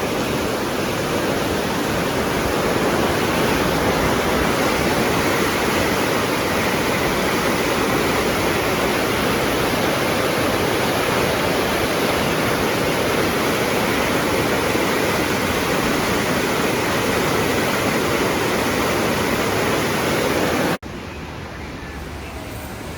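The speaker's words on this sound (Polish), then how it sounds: "Słyszysz już ten szum wody?" Loud, constant rushing of fast-flowing flood water in a park river roars without pause for over twenty seconds, broad and dense like a swollen river.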